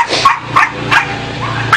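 Puppies at a puppy mill bark and yip in short, sharp bursts, several spaced yelps with whimpering between them, close and loud.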